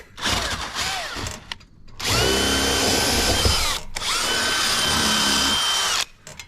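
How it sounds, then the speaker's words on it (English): An electric drill whirs in bursts, starting and stopping several times, with two long sustained runs at high speed, close and loud. "I ran the drill on the inside of it and let it build up a lot of heat"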